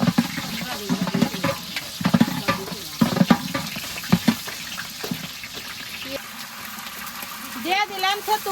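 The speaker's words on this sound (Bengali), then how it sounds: "বড় হাড়িতে দিয়া দিলাম গরম মশলা পেঁয়াজ কুচি" Onions and garam masala fry and get stirred in a big pot at an outdoor village picnic, with sizzling and scraping spatula strokes as people talk over the cooking.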